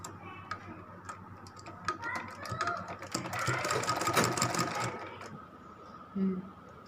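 A sewing machine runs in a steady rapid stitching burst while a gagra is sewn, starting after a few ticks, building to a dense whir in the middle, then stopping with a faint thump near the end.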